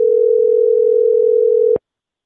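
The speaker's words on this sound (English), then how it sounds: "okay, I just heard a phone call." Telephone dial tone from a caller joining an online meeting: a loud steady pulsing tone held for almost two seconds, then cut off abruptly into silence.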